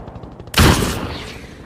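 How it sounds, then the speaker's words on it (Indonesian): A single loud, sharp gunshot from a sniper rifle in a war film cracks out after a quiet moment and trails off into a decaying rumble. "Setelah mengetahui posisi dari Juba, Ishak melepaskan tembakannya."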